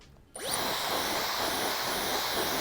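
A Dyson Supersonic hair dryer switches on abruptly after a brief quiet moment, then blows with a loud, steady whooshing roar and a thin high whine.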